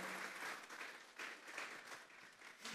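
A church congregation clapping during a sermon, sustained crowd applause with rhythmic swells, somewhat distant and moderately quiet, no talk over it.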